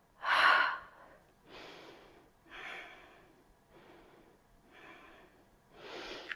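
Deep breaths during an intermediate yoga session, moving into warrior one pose: about six distinct breath bursts, the first loud and forceful, the rest softer, spaced roughly a second apart with no talking.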